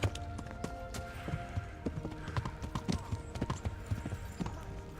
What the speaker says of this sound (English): That horse of yours nearly trampled me to death.